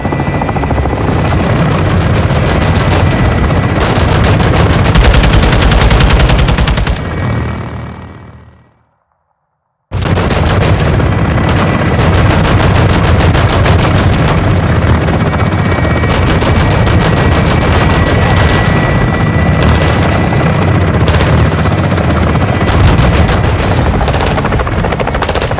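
Loud, sustained gunfire in a realism first-person shooter played on highest difficulty, with machine-gun bursts and heavy rotor-like drone filling the mix, cutting briefly to silence before resuming just as dense and continuous.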